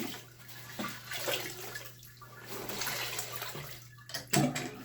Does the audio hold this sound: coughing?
no